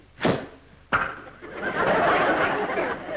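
A comedian imitates an exclamation point with two mouth sounds in quick succession, a breathy swish then a sharp pop, followed by rising audience laughter.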